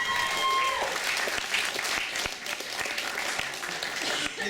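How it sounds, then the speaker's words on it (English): An audience at a family weekend comedy show applauds a comedian after a first performance, a dense steady clapping from a modest crowd that fades slightly toward the end. "Let's get another round of applause for Jack for his first performance."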